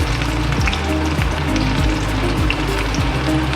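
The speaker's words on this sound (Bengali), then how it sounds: "পাঁচ ছটা লঙ্কা একটু নাড়িয়ে নেবে হালকা করে একটু ভেজে নেব" Green chillies frying in hot oil with a little ginger in a pan, a loud, steady crackling sizzle with sharp pops and repeated scraping strokes of a spatula stirring, no voices.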